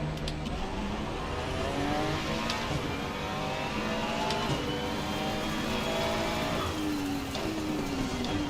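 Aston Martin GT3 race car in Assetto Corsa Competizione on the Nordschleife in the wet, engine droning steadily and loudly throughout with shifting pitch as it accelerates, other GT3 cars nearby.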